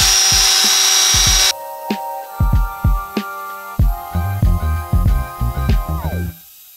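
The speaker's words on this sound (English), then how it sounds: "I have the drill on the highest setting and you want to be using firm pressure." A power drill on its highest setting whirs loudly at first, then spins in repeated short bursts with pulsing tool noise as it grinds against a wheel being polished.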